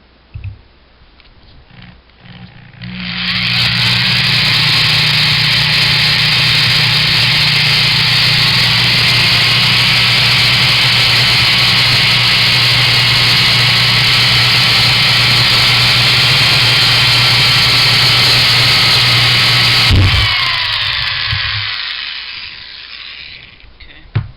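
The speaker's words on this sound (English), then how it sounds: "Notice I'm not going really fast with that drill bit, just kind of a medium speed" A power drill at medium speed, fitting a 1911 magazine base pad: a steady, loud mechanical whine with a low motor hum runs for about seventeen seconds at an even speed, then cuts off, leaving quiet.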